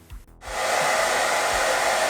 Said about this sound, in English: use my hairdryer to soften and comb out the curls.